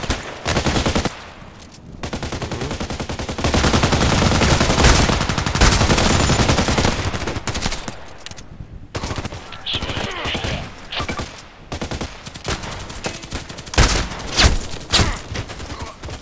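Gunfire in the online shooter game Contract Wars: dense rapid bursts and volleys, loud and continuous at first, then scattered shots with brief gaps.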